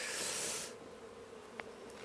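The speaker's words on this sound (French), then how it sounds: "Pas énormément d'abeilles, hein." Honeybees buzzing at an open hive during a spring inspection, a steady soft hum with a louder, airy burst at the start that settles to a faint drone, one short sharp tick midway.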